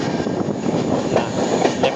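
A Trivandrum to Hubballi weekly superfast express runs along the tracks, heard from onboard as a steady, close rumble of wheels and carriage noise with faint rhythmic clatter and a hint of squeal.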